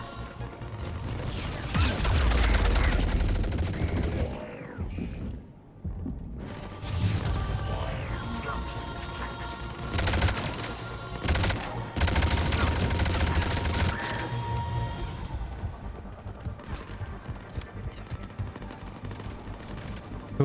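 Heavy bursts of gunfire from the video game Mass Effect 3, dense and loud, with rapid volleys and a brief lull before the shooting resumes in sustained, crackling waves.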